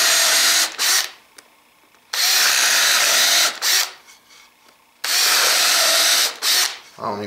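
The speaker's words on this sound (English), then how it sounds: "So to do that, I'm going to drill these countersink holes" A Makita CXT FD06Z drill driver bores countersink holes in wood in three loud bursts of a few seconds each, separated by quiet pauses with faint handling noise.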